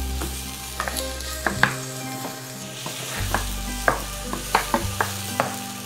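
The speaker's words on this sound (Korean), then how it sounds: "양파를 넣어서 양파가 투명해질 때까지 볶아주도록 하겠습니다" Onions stir-frying in a spoonful of oil in a hot pan for kimchi fried rice, with a constant loud sizzle and repeated clinks and scrapes of a utensil against the pan, no talking.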